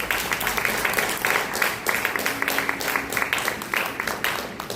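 A church congregation applauds, a dense wash of clapping that swells in uneven bursts and fills the room for several seconds.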